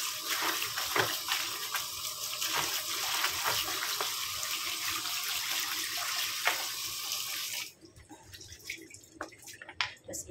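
Tap water runs steadily in a kitchen sink while freshly harvested produce is rinsed, a loud continuous splash that cuts off near the end, leaving faint handling sounds.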